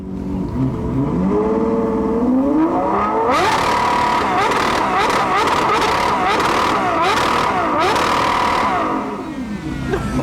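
A 6.5-litre V12 supercar with a Novatec exhaust at a supercar weekend show revs hard, rising and falling in a loud series of sharp blips and sustained roars close by, settling toward idle at the end.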